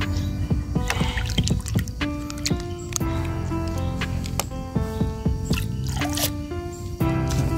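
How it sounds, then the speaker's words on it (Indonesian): Liquid insecticide is mixed into water for a 16-liter sprayer tank. Dense, irregular drips, splashes and sloshing sounds come close to the microphone, with no talking. "Dan ini dilarutkan dengan air seperti ini."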